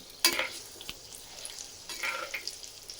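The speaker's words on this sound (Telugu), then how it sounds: "వెల్లుల్లిపాయలు, శనగపప్పు, ఆవాలు, మెంతులు అంతా అదే నూనెలో వేస్తున్నాను" Garlic, chana dal, mustard seeds and fenugreek frying in oil, with a sharp crackle at the start settling into quiet sizzling and occasional stirring scrapes.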